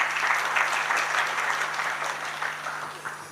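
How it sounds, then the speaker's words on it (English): Audience applause at a UN ITU forum on cities and the metaverse in Tanzania, a dense, steady round of clapping that holds for about three seconds, with a faint low hum underneath. "Another round of applause for Dr. Manasseh, please."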